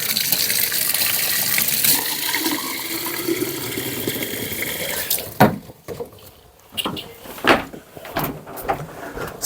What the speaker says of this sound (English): I'm going to water this deeply on the tray.